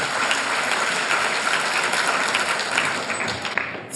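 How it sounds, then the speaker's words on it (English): Steady audience applause for a school exam topper at a prize ceremony, a continuous wash of many hands clapping at moderate loudness with no talk. "So please, audience, huge round of applause for him."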